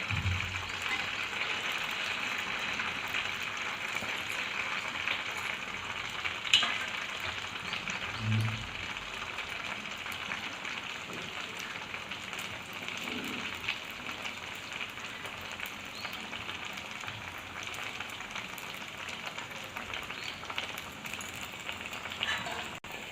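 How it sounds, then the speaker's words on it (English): Malpua batter fries quietly in a pan, a soft continuous sizzle with faint crackle and a couple of small knocks, low and even throughout. "Take half scoop of malpua batter and add it in the middle of the pan."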